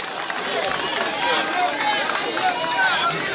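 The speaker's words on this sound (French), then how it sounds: "sous vos acclamations s'il vous plaît" A large crowd at a political rally in Gabon cheers, shouts and applauds in a dense, steady roar of voices and clapping, loud and continuous throughout.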